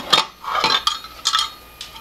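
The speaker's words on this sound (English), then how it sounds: "So I'm going to dump that back in the pot" Honey is dumped from a jar back into a cooking pot while making syrup. Several sharp metallic clinks and clatters of glass and utensils against the pot come in separate bursts, close and fairly loud.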